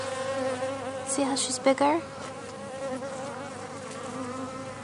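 Honey bees buzz in a pile around a queen in the grass, a steady close drone, with a person speaking briefly over it.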